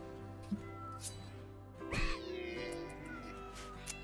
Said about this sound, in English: Watch out, kitty.